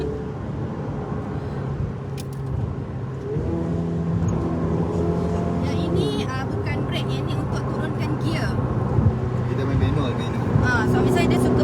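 A manual car's engine hums steadily while driving, its tone shifting as the gears change, with someone talking over it throughout.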